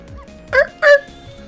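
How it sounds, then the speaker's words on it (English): Two sharp dog barks from the video game Ghost Trick come in quick succession, close and clear, over faint quiet background. "Yes, you guessed it, I barked, you bet I did, and I went running after her, too."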